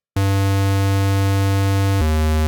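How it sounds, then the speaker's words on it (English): A loud, hollow square-wave synthesizer tone rings steadily on one low note, then steps down to a lower pitch and continues. "And then finally you have a square wave."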